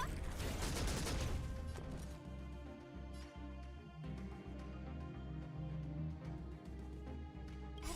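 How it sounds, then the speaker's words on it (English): A bomb attack lands in Honkai: Star Rail with a loud opening burst of explosive crackle, then gives way to game music carrying a steady thumping beat. "so we'll just use the bomb"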